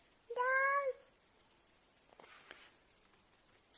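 A voice imitates a cat's meow with a single clear, drawn-out call, followed by faint soft shuffling and background noise.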